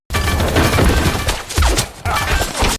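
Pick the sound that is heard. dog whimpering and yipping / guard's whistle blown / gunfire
gunfire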